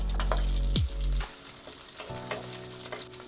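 Dried red chillies, three chopped green chillies and curry leaves frying in hot oil for a garnish, giving a loud, steady sizzle with a few light stirring clinks close by.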